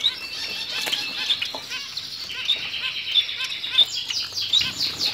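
Society finches tending Gouldian finch chicks fill the stretch with dense, continuous high chirps and tweets, with repeated sharp calls and bursts of fluttering over faint background noise.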